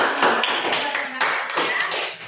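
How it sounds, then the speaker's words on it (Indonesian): A group of children clapping their hands in a classroom, a quick burst of overlapping claps close by, with voices mixed in underneath. "Oke, tepuk tangan untuk kita."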